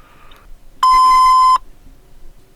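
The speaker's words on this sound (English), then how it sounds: "That beep really hurt my ear." One loud, steady electronic beep lasts under a second, with quiet background before and after.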